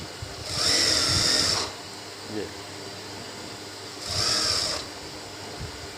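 A sewing machine double-stitches the fabric of a baby's trouser in two short, even whirring runs of about a second each, close by, with a pause between them and a voice talking over the quieter gaps.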